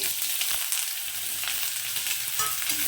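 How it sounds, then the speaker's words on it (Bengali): Eggplant pieces frying in hot mustard oil, a dense continuous sizzle with faint stirring scrapes, steady and close with no talk. "তেলের মধ্যে আমি প্রথমে বেগুনগুলোকে দিয়ে দিচ্ছি"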